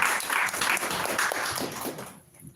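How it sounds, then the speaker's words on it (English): Brief applause from a Toastmasters club audience welcomes a speaker to the stage, a short burst of clapping that holds for about two seconds and then drops away abruptly. "Please give a big round of applause."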